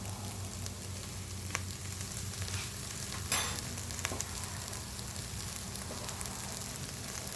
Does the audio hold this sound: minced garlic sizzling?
yes